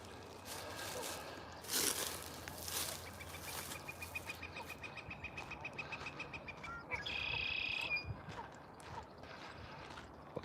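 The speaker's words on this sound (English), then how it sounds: "Lots of blackbird calls and flicker calls." Blackbirds and a flicker call repeatedly outdoors in spring, with whistled and chattering notes at moderate distance over a steady background hiss and occasional louder bursts.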